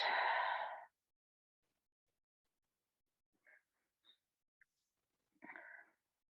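A deep breath drawn in and let out during a seated stretch-and-roll class, one strong close breath at the start, then faint small movement noises and a softer second breath near the end.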